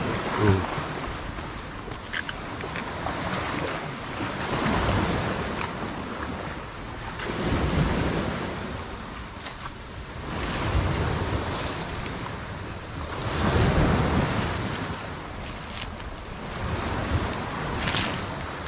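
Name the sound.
strong sea waves at the shore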